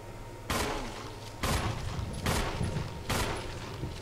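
Four loud gunshots from Resident Evil HD Remaster, spaced about a second apart, each a sharp burst with a brief reverberant tail, no talking.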